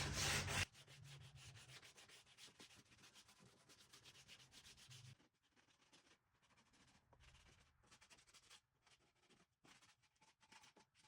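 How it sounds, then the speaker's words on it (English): A sanding block rubs back and forth along rough wood edges of an outdoor light post build, a close, faint, steady scratchy rasp in short repeated strokes with brief pauses. "I'm going to go around with the sanding block and sand some of the rough edges of the wood before I paint."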